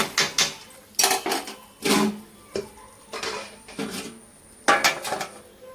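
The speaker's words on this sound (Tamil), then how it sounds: "இப்போ இதை வந்து நம்ம மூடி போட்டுட்டு" Repeated metallic clatters and scrapes of cookware, several irregular clanks close by, like a lid being fitted onto a pot, with no speech.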